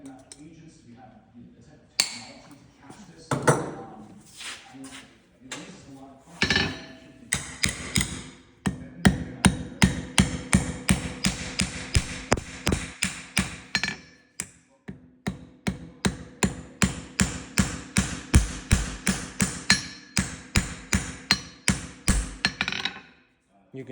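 Rivets are hammered on a keg horseshoe in a long run of sharp, ringing metal strikes, close and loud, their tempo quickening into a steady rhythm, with occasional talk between blows.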